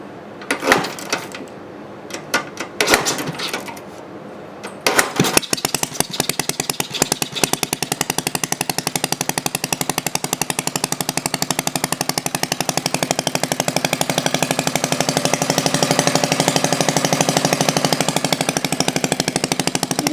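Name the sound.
antique 1948 Briggs & Stratton WMB engine starting and running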